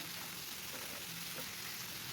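Capsicum and potato pieces frying in a pan for a curry, giving a steady, even sizzle that holds at a constant close level throughout with no talking.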